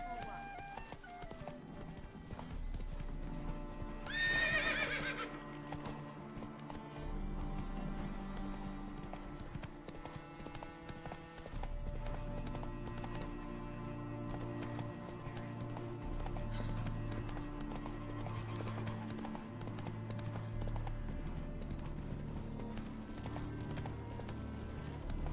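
Geralt's horse Roach in The Witcher 3 drums along at a steady gallop for the whole stretch, its hoofbeats running under game music and brief distant voices.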